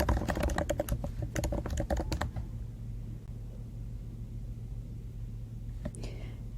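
Rapid clatter of computer keyboard typing during an Excel graphing lesson, dense bursts of keystrokes for about two seconds, then stopping, with a steady low hum continuing underneath and a faint click near the end.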